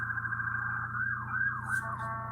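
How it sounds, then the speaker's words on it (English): A road siren wails in rising and falling sweeps over a low idling engine hum, sounding moderately close and growing as it approaches. "I hear a siren"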